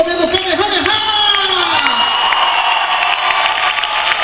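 A crowd cheers, whoops and shouts at a cosplay stage show in Rio, with voices rising from a dense, steady roar of excitement. The sound is loud and sustained throughout, with no clear gaps.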